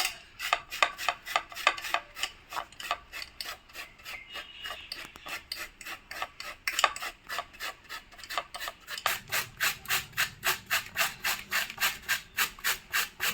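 Peeled giant taro (mankochu) scraped against a grater in fast, even strokes, a close rasping rhythm that carries on steadily for a long run and quickens toward the end, with no voices.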